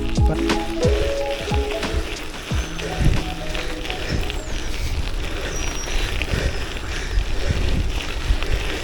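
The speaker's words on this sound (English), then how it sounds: "the wind picked up a lot on the way home here" Strong wind buffets the microphone while riding a bicycle along a trail, a steady roaring rush with intermittent thumps and rattles, loud and close throughout.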